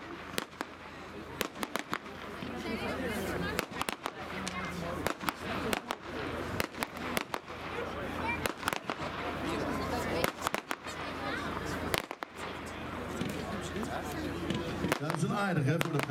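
Sky Hawk firework cake by Broekhoff going off at a demo event, a long run of sharp bangs and crackling bursts at irregular intervals, with voices talking underneath.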